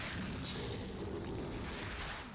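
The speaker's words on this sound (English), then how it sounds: "Slow rockets." Slow rocket explosions in Quake 2 rumble continuously in a dense, loud wash of blasts and debris, with no distinct gaps between the booms.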